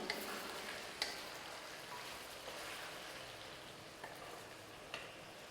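Whole spices such as peppercorns, cinnamon, cloves, cardamom and bay leaf fry in an iron pan, giving a faint, steady low sizzle with a few soft clicks, with no talk.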